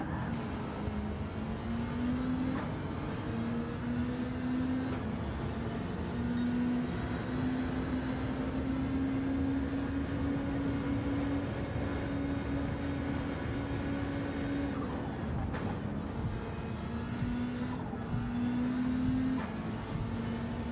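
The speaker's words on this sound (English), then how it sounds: "That's the turbo doing turbo things." A race car's turbo flutters and chirps in Gran Turismo 7, a soft, recurring whistle over a steady, fairly quiet engine drone that runs continuously for about twenty seconds.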